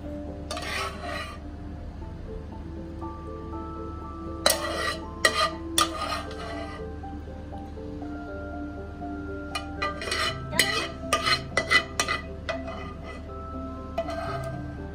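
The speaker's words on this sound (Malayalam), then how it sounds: "അപ്പം നമുക്കിതൊരു പ്ലേറ്റിലോട്ട് സെർവിങ് പ്ലേറ്റിലോട്ട് മാറ്റാം ആദ്യം നമുക്ക് മീൻ എടുത്ത് വെക്കാം" Fried pomfret fish and gravy are moved onto a serving plate in a Kerala kitchen, with scattered clinks and scrapes of utensils against a plate in short bursts over a quiet hum.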